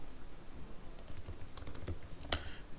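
Quiet computer keyboard typing while code is entered, a short run of soft close key taps ending in one sharper click.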